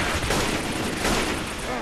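Gunfire in Left 4 Dead 2, a dense, loud, continuous burst of rapid shots blending into a sustained roar that carries through the whole short stretch.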